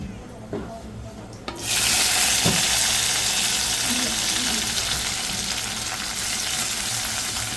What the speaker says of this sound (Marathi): कढीपत्ता तडकला लगेच आपल्याला लसणाची पात टाकून घ्यायची आहे